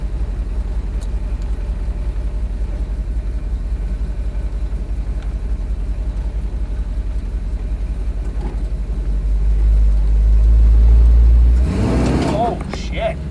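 A station wagon engine idles with a steady low rumble, then revs up louder for a few seconds near the end while the gas pedal misbehaves.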